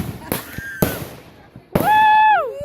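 Fourth of July fireworks bursting outdoors: three sharp cracking explosions, the last followed by a loud rising-and-falling whistling shriek, with a person cheering nearby.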